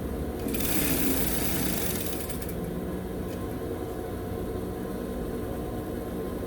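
A home sewing machine stitches fabric with backstitching at the start and end of a seam for a simple drawstring bag, giving a steady close mechanical whir that runs through with a brighter burst near the start.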